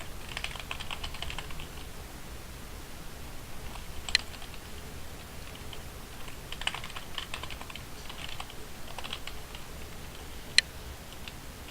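Keys clatter at a steady pace on a computer keyboard as database connection details are entered, soft rapid clicks with a few sharper taps, close and alone without talking.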